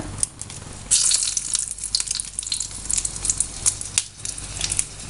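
Dried red chillies dropped into hot oil with plenty of mustard seeds for a beetroot pachadi tempering, giving a steady close crackling sizzle with sharp popping bursts throughout.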